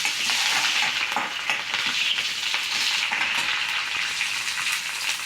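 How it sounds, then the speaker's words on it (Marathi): Green chillies fry in hot oil with crackled mustard seeds, a tempering for spongy dhokla, giving a steady, close, continuous sizzle and hiss with no voices. "आता आपण त्यात घालूया हिरवी मिरची"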